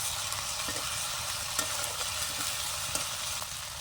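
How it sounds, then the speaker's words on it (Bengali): Spice paste with ground green chili is stirred and fried in a pan, giving a steady close sizzle broken by soft, irregular scrapes of the spoon, with no voices. "সববার একসঙ্গে মশলাটা আমি কষাবো এই মশলাটা কিন্তু ভালো করে কষাতে হবে"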